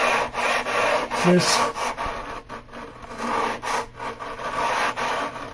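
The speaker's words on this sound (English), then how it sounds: "Now we're ready to sand." Rough particle board and glue are sanded by hand with a folded sanding block during edgeband replacement. Close, rhythmic back-and-forth rasping strokes repeat steadily, with a brief voice near the start.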